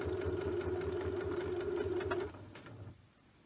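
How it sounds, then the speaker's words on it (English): A sewing machine running steadily with a close, humming motor drone while stitching piping cord onto a cross stitch stocking, slowing and stopping near the end, with no talk. "I'm going to start sewing"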